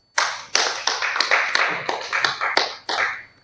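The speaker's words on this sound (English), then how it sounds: "A round of applause to Shalom, please." Audience applause after a presentation comes as a short, sparse run of about ten separate, sharp claps, close and fairly loud, each ringing briefly before the next, with no chatter.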